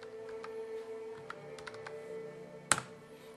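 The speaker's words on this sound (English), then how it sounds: "So the keyboard, a wireless keyboard works" Light keystrokes on a Dell Venue 8 Pro wireless keyboard come as scattered soft clicks with gaps between them, then one sharper, louder tap near the end, all quiet and close.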